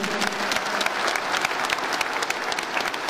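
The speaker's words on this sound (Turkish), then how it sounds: "Coşkulu alkış istiyoruz lütfen" Enthusiastic audience applause fills a hall at a ceremony with Turkish State Minister and EU chief negotiator Egemen Bağış, a loud, dense, continuous wash of many hands clapping without pause.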